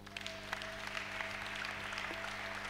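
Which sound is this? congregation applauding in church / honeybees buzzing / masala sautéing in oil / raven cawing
congregation applauding in church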